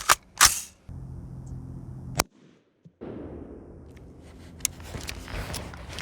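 A 5.56 M193 round fired from a 16-inch barrel strikes lightweight polyethylene body armor: a sharp, loud crack near the start, then further single sharp reports amid quiet outdoor background.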